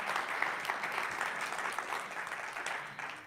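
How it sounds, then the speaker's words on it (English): A congregation at a Sunday morning church service applauds Paul, a steady wash of many hands clapping at moderate distance, even and sustained throughout without letting up. "let's give Paul another round of applause"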